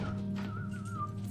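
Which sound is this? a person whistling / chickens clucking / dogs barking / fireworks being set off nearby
a person whistling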